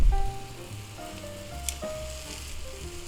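Meat and onion sizzling in a cast iron skillet for a patty melt, a steady soft crackle with one brief clink, close and without speech.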